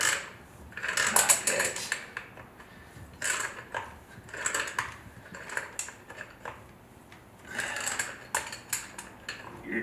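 Someone is cranking down a barb adapter fitting while replacing a well pump. Short bursts of metallic ratcheting clicks repeat about six times, close and clear, with brief pauses between them and no speech.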